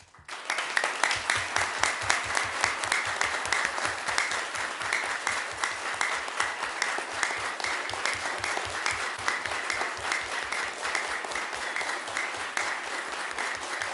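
An audience at a city council meeting breaks into sustained applause, a dense, even wash of many hands clapping that holds steady for the full stretch with little change in loudness.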